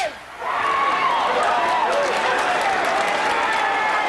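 Crowd cheering and applause at a kickboxing fight between Don Wilson and Dennis Alexio, a loud, steady roar of many voices with whistles that swells after a brief quieter moment and holds throughout.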